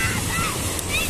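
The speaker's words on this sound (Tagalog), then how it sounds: "maalon na siya, maalon." Sea waves wash in steadily at Paniman Beach Resort, a broad continuous roar of surf mixed with wind buffeting the microphone, with faint voices in the background.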